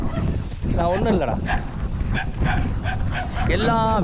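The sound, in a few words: native village dog barking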